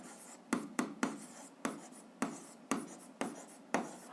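Pen strokes scratching an algebra equation onto paper: eight distinct, sharp scribbling bursts in an irregular rhythm, close and clear, with quiet gaps between them and no talking.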